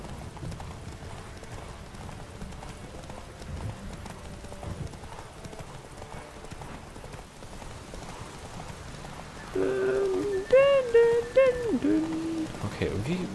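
Horse hooves clip-clop steadily in The Witcher 3 under game ambience, with a voice talking in German over the steps.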